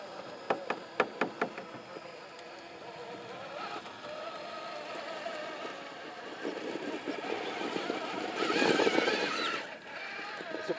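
A 1/6 scale SCX6 Trail Honcho RC crawler moves over rough ground, opening with a quick run of sharp knocks and followed by a steady low whirring drive with clattering, which swells louder near the end.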